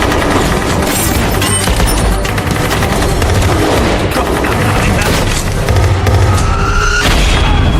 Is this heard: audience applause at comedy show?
no